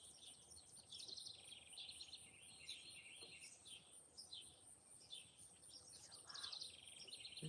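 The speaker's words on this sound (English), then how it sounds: "So those birds, just listen to those birds." Birds sing and chirp steadily outdoors, many calls overlapping at a moderate distance over a soft, constant background hiss.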